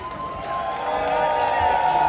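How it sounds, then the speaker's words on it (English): An audience at the Dolly Parton Stampede dinner show in Pigeon Forge, Tennessee cheers for its side, with crowd noise swelling steadily louder over a few seconds. "You give your team a cheer."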